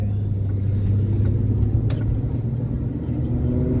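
A car on the road during a ride, heard from inside as a steady, loud low rumble of engine and tyres with faint ticks and rattles over it.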